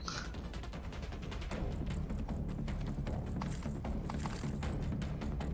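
A heavy machine gun fires in rapid sustained bursts in the video game The Division 2, a dense stream of close, loud reports with short gaps between volleys.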